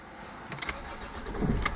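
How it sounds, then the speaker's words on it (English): A Rover 75 Tourer estate car's engine is started: a brief starter crank with a couple of sharp clicks, then the engine catches into a low, moderately quiet rumble. "let's just fire up"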